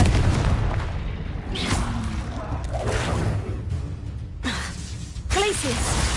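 Confringo explosive spell blasts in the video game Hogwarts Legacy: loud, close booms and whooshing bursts in quick succession over a busy, dense combat mix, with a voice-like shout among them.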